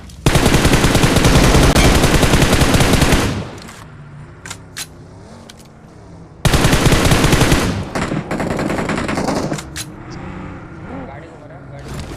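Heavy automatic gunfire from a battle-royale shooter game rakes a vehicle in two loud, dense bursts of rapid shots, broken by quieter stretches of engine noise and scattered single reports, with players talking over it.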